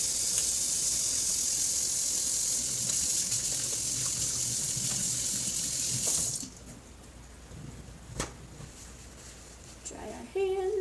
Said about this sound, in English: We will next wash our hands with warm water.